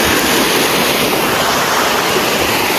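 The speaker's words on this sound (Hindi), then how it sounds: "आप चेक करो गाइस, क्या खतरनाक झरना है।" A hidden waterfall deep in a dense jungle roars with steady, loud broadband rushing water, a continuous close wash of noise with no voices.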